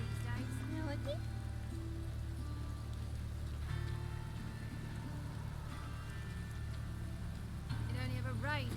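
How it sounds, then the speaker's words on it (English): Steady rain falls in a video game, a soft continuous patter that persists faintly under low background hum and occasional brief game sounds. "It only ever rains these days."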